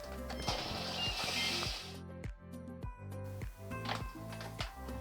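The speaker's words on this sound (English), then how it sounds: "Next, it's time to set the washing machine." A washing machine control dial is turned, giving a series of rhythmic mechanical clicks and ratcheting ticks up close, with a brief hiss of running water at the start.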